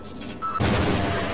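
A Half-Life 1 grenade detonates after a short hiss and tone, giving one sharp loud boom followed by a dense, roaring tail.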